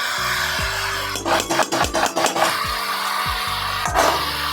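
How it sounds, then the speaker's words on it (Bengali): Fried vegetables with note greens and ginger stirred in a pan, with brisk rhythmic scrapes of a spatula in a quick burst among steadier rubbing and occasional knocks, close and loud. "দিয়ে ভালো করে নাড়াবো।"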